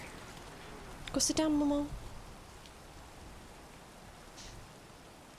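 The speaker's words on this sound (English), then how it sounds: "Wait, no, it's still raining." Steady rain falls in the video game Death Stranding 2 as a soft, even hiss throughout, with a brief burst of nearby talk near the start.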